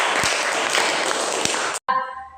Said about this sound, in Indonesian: Kita beri tepuk tangan dulu kepada mereka berdua.